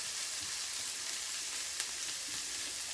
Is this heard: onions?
yes